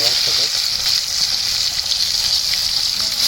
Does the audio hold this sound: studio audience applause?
no